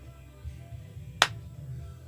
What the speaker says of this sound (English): If I'm going outside, I don't have a clapperboard, I can always clap.